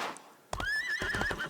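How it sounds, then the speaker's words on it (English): A horse in Disney Infinity 3.0 lets out one loud, wavering whinny right up close, with soft thuds under it. "So let's get up here and go grab our horse."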